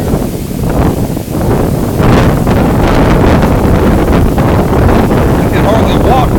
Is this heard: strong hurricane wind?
yes